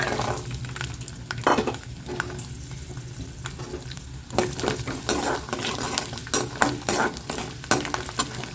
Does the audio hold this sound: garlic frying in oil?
yes